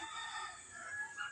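A chicken crows or clucks faintly in a backyard garden, a brief, distant call with no talk over it.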